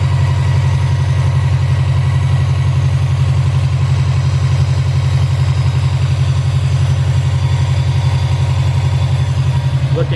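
A car engine fitted with boost and oil pressure gauges idles steadily and loudly up close, a constant low rumble with a fast even pulse and no clear rise in revs.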